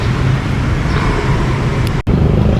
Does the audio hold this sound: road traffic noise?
yes